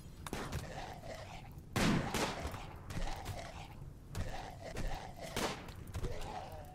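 Gunfire in the Rimworld video game: repeated short shots crackle at an uneven pace, fairly faint and somewhat distant, with a few louder bursts.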